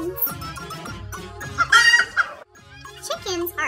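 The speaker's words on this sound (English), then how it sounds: "Chickens." Chickens clucking and a rooster crowing on a farm, several birds calling in quick bursts close by and fairly loud throughout.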